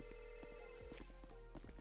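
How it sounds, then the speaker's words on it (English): A telephone rings inside the video game GTA V, faint and repeating under a steady low hum, with soft thumps like footsteps scattered through. "There's a phone ringing."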